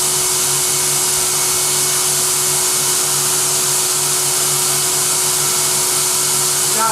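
A Versaspa automated spray tanning booth sprays steadily, a loud continuous hiss and airy blower roar with a low hum underneath, unbroken for several seconds.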